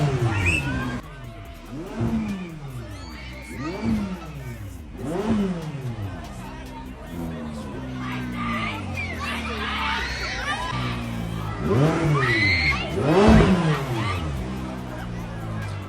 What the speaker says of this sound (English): Are we just revving the car?